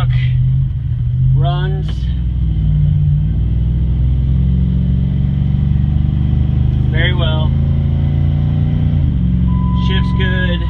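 A 2007 Dodge Ram 1500 with a Hemi engine rumbles steadily from inside the cab while cruising at about 50 mph, a loud continuous low drone under intermittent talking.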